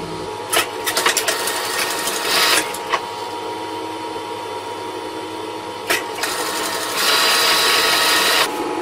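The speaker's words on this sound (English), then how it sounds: "Now the last piece to sew is that back seam." A sewing machine stitches the back seam of a large fabric puppet in several short bursts of close, rattling whir, then runs steadily toward the end.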